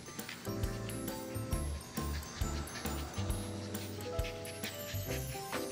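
Puppies at a dog café in Korea bark, yip and whimper up close in repeated short, sharp bursts, with panting and scuffling between the calls.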